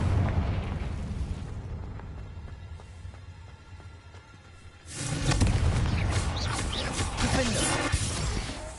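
A Confringo fire-blast spell from the Hogwarts Legacy video game bursts out suddenly midway, a loud, broad roaring blast that sustains over busy combat noise after a quieter rumbling stretch.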